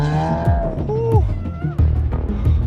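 Cars drive and idle in a crowded snowy parking lot, engines revving and whining with rising and falling pitch close by, mixed with faint voices and thuds.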